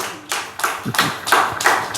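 Church congregation clapping hands together at a festival gathering, several loud bursts of applause swelling and fading in uneven waves with no talking.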